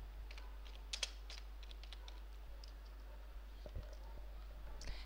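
Soft, sparse keystrokes on a computer keyboard while text is entered in Photoshop, faint clicks in irregular bursts over a steady low hum.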